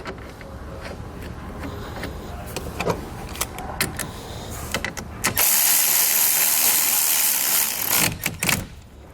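A ratchet tightens a 10mm bolt securing a battery cable on a 2018 Chevrolet. Scattered clicks and knocks lead into a longer run of brisk, close ratcheting that ends in a few final clicks.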